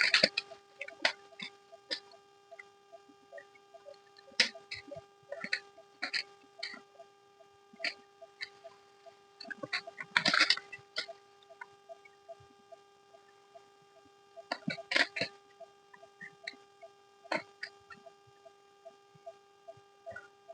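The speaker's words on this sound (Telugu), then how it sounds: "చూద్దాం ఎన్ని పళ్ళు రాలుతాయో." Small wild fruits drop from a tree on a summer hillside as scattered, sharp taps and patters. They come irregularly, sometimes in quick clusters, over a faint steady hum.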